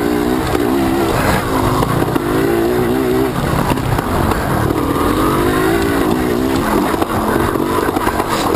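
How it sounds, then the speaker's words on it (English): Dirt bike engine running steadily during an enduro race, loud and close with a continuous drone and shifting pitch as revs rise and fall, no talk over it. "bike's running good."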